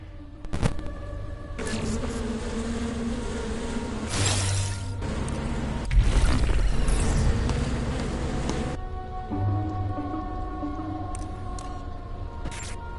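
Bees buzz in the video game Republique as a steady, droning hum that holds across the whole stretch with several tonal layers. A louder, brighter swell comes midway, then the hum carries on evenly with a few faint clicks and no voices.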